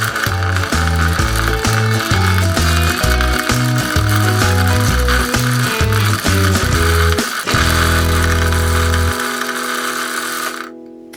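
A sewing machine winding a bobbin: a loud, close mechanical whir with a rapid, rhythmic chugging pulse that turns into a steadier hum partway through, then cuts off abruptly at the end.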